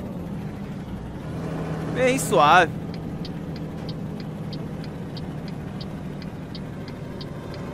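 Heavy truck engine in Euro Truck Simulator 2 running at a low, steady drone while being throttled very gently, low on fuel in city streets; someone talks over it and faint regular clicks, like a turn signal, tick along.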